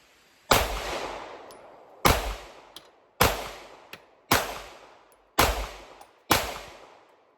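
Six sharp, loud pistol shots from a Staccato CS firing hollow point rounds, each a crisp crack with a short decaying tail, spaced roughly a second apart outdoors in humid weather.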